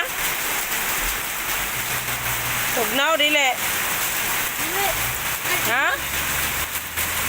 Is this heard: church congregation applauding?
no